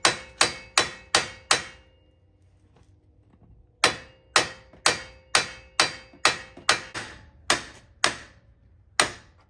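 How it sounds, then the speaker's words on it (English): A hammer strikes strut bolts on a 2014 Ford Taurus during a strut replacement: sharp metallic blows, first a quick burst of five, a pause, then a long irregular series of a dozen or so, close and loud. "Be careful on these screws because they'll flatten out if you hit it too hard."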